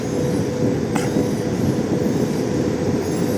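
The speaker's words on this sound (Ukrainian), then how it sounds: "від'їжджає діючий потяг" A passenger train departing nearby at a station in Lviv, a loud continuous low rumble and rolling clatter of wheels on rails that holds steady throughout, with no voices.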